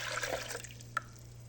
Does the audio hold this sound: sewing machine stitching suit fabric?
no